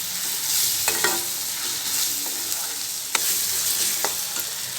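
Ginger and garlic fry with onion in a pan for a Malvani clam masala, a loud, steady sizzle with several sharp clacks and scrapes of a stirring utensil, no speech.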